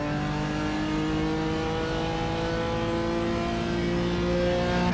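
A BMW M4 GT4 race car in iRacing drives with a steady, loud engine drone that holds a constant pitch, the tone swelling slightly toward the end, with no talk.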